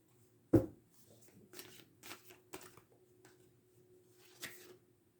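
A deck of cards being shuffled by hand, with a sharp riffle followed by several softer flutters and a final riffle, close up in a quiet room.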